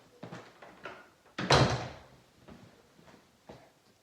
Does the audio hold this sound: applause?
no